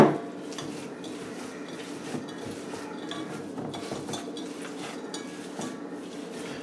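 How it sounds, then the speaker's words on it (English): Homemade meatball mixture being worked together with salad greens by hand in a bowl, giving a steady, close, soft squishing and mixing sound with faint clinks and no talking. "Now, you're going to mix it all together again."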